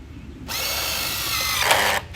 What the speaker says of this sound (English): You'll see I'm putting the screw in at an angle here to catch the bottom flange